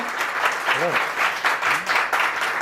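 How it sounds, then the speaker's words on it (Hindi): Audience applause rings out steadily at a company promotion event as a guest is welcomed onto the stage, with a voice briefly audible over the clapping. "ताली बजाइए।"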